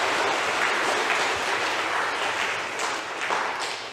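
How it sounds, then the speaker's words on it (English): A church congregation applauds volunteers during a homily, dense and loud clapping from many people spreading evenly through the room, continuing steadily and easing slightly toward the end. "so round of applause for our volunteers."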